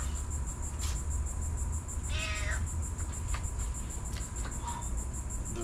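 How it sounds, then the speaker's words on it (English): A cat meows close by a few times, one drawn-out call and several shorter ones, while a hogfish is cleaned, with a steady chirping of crickets or insects running underneath throughout. "I'm gonna let the cat eat the bones,"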